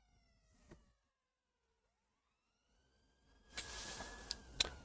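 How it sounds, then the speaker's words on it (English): A siren outside, heard faintly and distant as a long gliding tone that rises slowly, with a brief thump early on and a burst of louder rustling and clatter near the end. "The siren's still outside."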